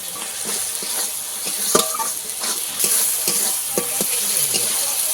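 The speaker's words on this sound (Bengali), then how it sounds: "মশলাটা আমি কিছুক্ষণ কষাবো" A spoon works a fish curry spice paste of ground masala, coriander powder and a little water in a hot pan, with steady sizzling and repeated scraping strokes, close and loud throughout.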